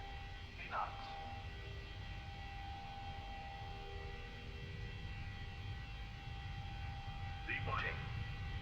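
A propeller airliner in a flight simulator spools up on the runway, a steady broad engine drone holding level throughout with faint tonal whines rising near the start and end.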